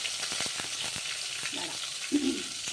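Ground chutney paste hits a hot pan and sizzles steadily, a soft frying hiss with a few stirring scrapes and brief louder spits near the end.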